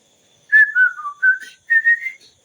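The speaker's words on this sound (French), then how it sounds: "Je sifflote chaque jour." A person whistles a short, lively tune in clear rising and falling phrases, two bursts of notes separated by a brief pause, close and alone with no talking.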